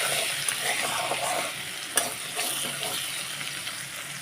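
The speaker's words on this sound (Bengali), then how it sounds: "কালো জিরে শুকনো লঙ্কা আর রসুন দিয়ে রসুনটা একটু ভেজে নেবো" Crushed garlic frying with nigella seeds and dried red chilli in hot oil, a steady close sizzle with scattered spatter pops and one sharp clink partway through.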